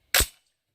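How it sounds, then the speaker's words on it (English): A single sharp rifle shot cracks out loudly using True Ballistics ammunition, fired while shooting a group at a target, then fades quickly into silence. "And then I'm going to let Ashton shoot a group with it."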